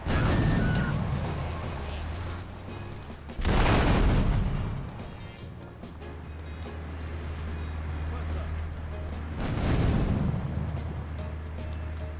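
Grenade blasts in GTA III: two heavy booming detonations a few seconds apart, loud and close, over a low rumbling game backdrop with a voice talking.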